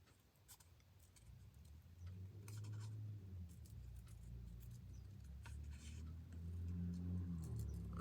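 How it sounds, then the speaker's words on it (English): A loud car goes by outside while someone works on a paper collage nearby, its engine rumble swelling and holding low under scattered crisp scratching and tapping sounds close at hand. "Oh, it's a loud car."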